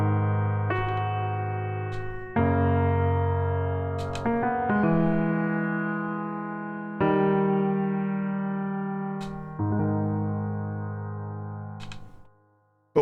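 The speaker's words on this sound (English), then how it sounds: "I did add a bit of reverb and a big compressor" A gentle chord progression on the FL Studio Close Grand piano plugin, treated with reverb and heavy compression, gives long sustained chords that ring into a lingering tail before fading out, with no speech.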